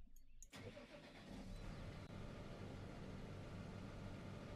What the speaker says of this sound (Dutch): Laten we de motor starten.